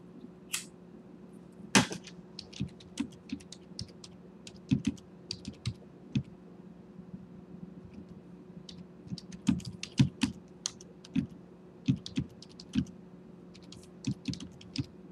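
Typing on a computer keyboard to write a custom stock scan, irregular close clicky keystrokes in bursts with brief pauses, over a steady low hum.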